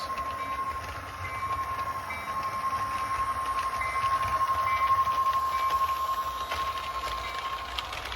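A small HO-scale model train rolls quietly along its track, a soft continuous rumble with a faint electric whine and light clatter.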